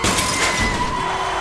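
A car crash in the game 428: Shibuya Scramble, a loud burst of shattering glass and crunching impact with a thud, brief and close, no talking.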